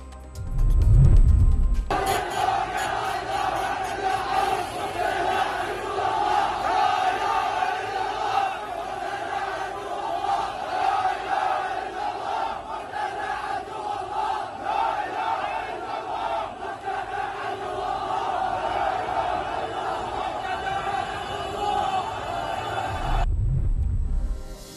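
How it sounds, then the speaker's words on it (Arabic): A large crowd of funeral mourners chants anti-Sadr slogans in unison, a dense, loud and continuous roar of voices that holds for over twenty seconds between brief low rumbles at the start and end. "وردد المشيعون هتافات مناهضة للصدر كان أبرزها: لا إله إلا الله مقتدى عدو الله"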